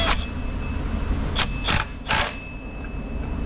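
A 1/2 inch impact gun fitted with a 10 mm socket on a Subaru Forester 2.5 engine fires several short, sharp bursts close by. The bursts come in a loose series over a steady workshop hum.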